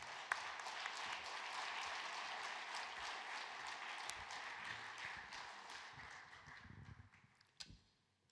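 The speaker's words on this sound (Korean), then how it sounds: "힘찬 위로의 박수로 맞이해 주시기 바랍니다" Audience applause at a national men's mission society church convention, a dense, steady clapping from a large crowd that holds for several seconds, then thins out and fades away at the end.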